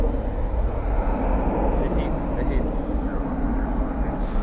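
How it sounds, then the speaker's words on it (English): A Boeing 777 airliner at Dallas/Fort Worth airport at night produces a broad, steady jet rumble heard from a distance, filling the few seconds evenly, with people talking nearby. "777 going east."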